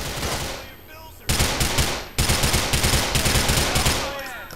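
Rapid machine gun bursts ring out from a video game of police hunting criminals on city streets, loud and close, in two long sustained volleys after a short lull, with shots trailing off at the end.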